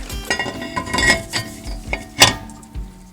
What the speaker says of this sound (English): we can pull off the old rotor and toss that, and put on the new rotor